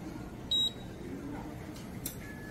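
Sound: subway fare gate beep from tapping a transit card

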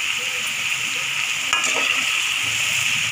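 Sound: curry leaves frying with onions and green chillies

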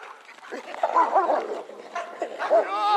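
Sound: shepherd dog barking during police dog training

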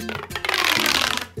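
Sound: expanding corrugated toy tube making whistling sound

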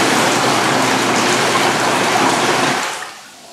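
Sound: air jets bubbling water in freestanding whirlpool air tub

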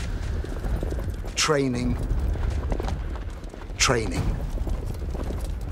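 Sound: horses' hooves while driving a horse team

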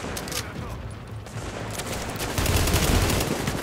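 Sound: gunfire in a video game

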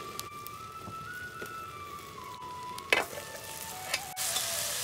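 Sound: oil heating and sizzling in a pan over a wood fire

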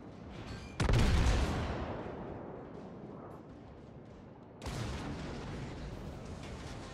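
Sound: naval artillery fire in video game World of Warships

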